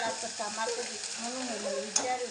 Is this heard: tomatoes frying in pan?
yes